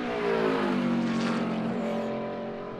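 A NASCAR Cup Series car howls through a qualifying lap at Sonoma Raceway, a loud, close engine note climbing and shifting in pitch before easing off at the end.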